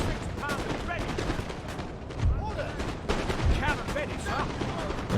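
Musket volleys from line infantry in a Napoleon: Total War battle, heard as a steady crackle of distant, overlapping shots with several louder volleys rising above it, under a person speaking.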